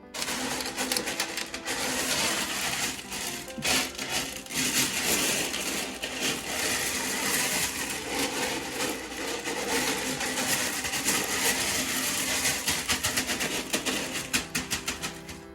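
Small clay drainage balls pour into a bioactive terrarium, a dense continuous rattling and clicking patter of many pellets tumbling over one another, close and fairly even for the whole stretch.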